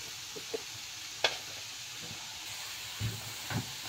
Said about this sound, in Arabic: انتوا بقى بقيه التتبيله بتاعت السمك دي هنزل عليها هنا.